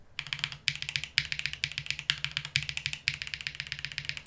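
Rapid typing on a mechanical keyboard fitted with swag keycaps, crisp clacky keystrokes in quick bursts with brief pauses, close and loud with no talking.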